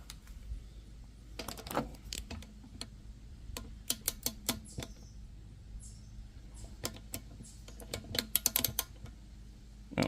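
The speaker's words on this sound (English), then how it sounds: "as you tighten it, it'll actually make a clicking sound" A half-inch ratchet clicks in uneven bursts while tightening lug nuts on an X3 tire change, sharp close-up ticks clustered between pauses.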